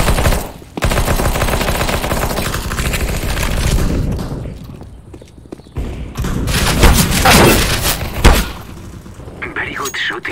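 Rapid automatic gunfire and thudding impacts in a Counter-Strike: Global Offensive team deathmatch on the Inferno map, with loud dense bursts and brief lulls, and voices talking at moments.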